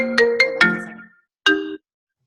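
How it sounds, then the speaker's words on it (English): A mobile phone ringtone plays a short melodic run of three chiming notes, then a pause and one more tone, clear and close with no talking. "that's my phone ringing."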